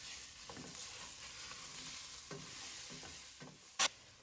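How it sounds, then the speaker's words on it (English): Soft, steady sizzling of food frying in a pot for chicken noodle soup, with occasional scraping stirs and a brief sharp clink near the end. "we've got our final stir here. It's really sizzling right along."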